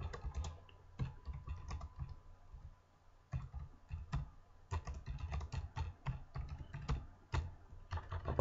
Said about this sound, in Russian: пишешь что-нибудь на клавиатуре